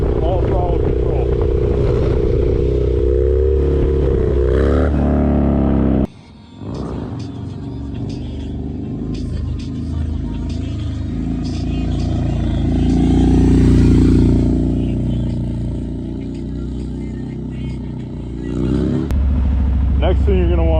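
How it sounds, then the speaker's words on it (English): A Harley-Davidson Dyna motorcycle revs hard during a stand-up wheelie, its loud rumbling engine rising and falling throughout with a brief dip midway, steady mechanical clatter underneath. "All these stand-up wheelies on Harleys, all throttle control."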